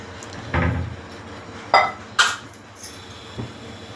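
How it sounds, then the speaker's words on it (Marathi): A kadhai wok set down on a kitchen stove for tomato saar, heard as a dull thud followed by two sharp metallic clanks and a few lighter knocks, close and clear with no talking. "मी कढई ठेवली बघा, त्यात तेल घालते."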